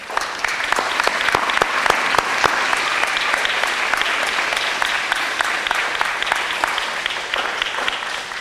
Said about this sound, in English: let's give Oakwood School a round of applause